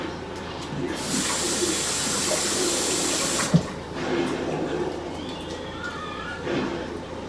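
Parsley and thyme are rinsed under a running kitchen tap, water hissing steadily into the sink for a few seconds before the flow cuts off with a brief knock, followed by quieter dripping and handling.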